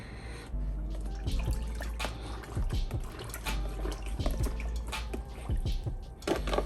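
Towels plunged and swished into a bucket of rinseless car wash solution, giving continuous wet sloshing and squishing with scattered drips and splashes, close and steady throughout.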